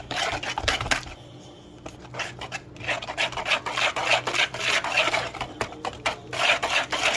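A cardboard box of baking mix shaken by hand, a rhythmic rasping rustle of dry powder that repeats in quick bursts, close up and fairly loud.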